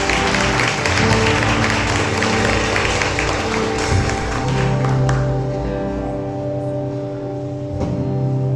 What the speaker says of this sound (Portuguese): Pode aplaudir o Senhor, meus irmãos